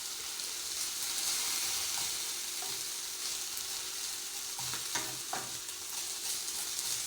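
Onions caramelizing with brown sugar and a pinch of salt in a pan give a steady close sizzle and frying hiss, with a few scraping stirs near the end and no talk.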